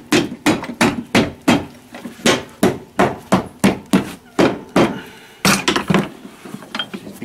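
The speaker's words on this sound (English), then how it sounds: "Let's have a little heavier hammer over here." A heavier hammer pounds the sole of a Red Wing Irish Setter boot during resoling, with about sixteen close, loud blows landing in a steady, even rhythm and no talking.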